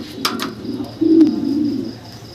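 Fancy pet pigeons kept for sale give a low throaty coo that swells and fades, close by, with a couple of brief clicks and no talk.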